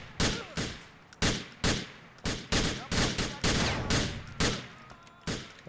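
Gunfire in GTA IV: about a dozen sharp, loud shots in an irregular run, some in quick pairs, each ending in a short decaying tail, with no talk over them.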